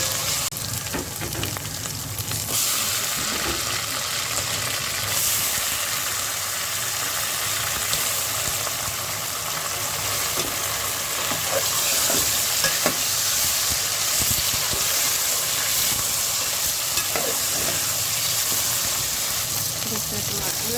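Garlic ginger paste sizzles and fries in a pan in a home kitchen, a steady loud hiss with occasional stirring scrapes, while a person talks intermittently over it.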